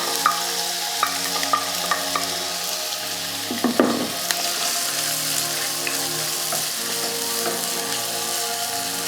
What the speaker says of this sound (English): So I'm tossing my sausages in the oil until it turns golden brown.